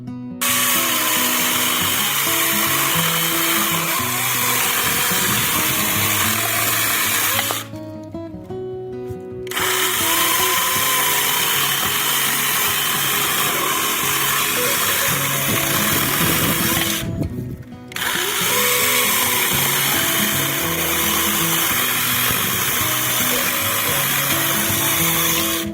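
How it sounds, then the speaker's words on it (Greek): Loud, sustained whine of a Nakayama EC1600 battery chainsaw cutting through thick, dry wood, running continuously with two short breaks where the motor drops off. "Κόβουμε μερικά ακόμα πιο χοντρά και ξερά ξύλα και βλέπουμε ότι το πριόνι συνεχίζει ακάθεκτο"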